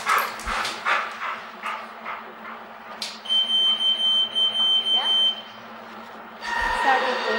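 A steady electronic beep tone sounds for about two seconds while a dog barks and yips repeatedly nearby, with people talking in the background.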